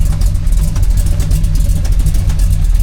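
Hot rod with a 396 engine running Edelbrock aluminum Performer RPM heads and a Summit 1769 cam, giving a steady, loud, throaty exhaust rumble close by with no pauses.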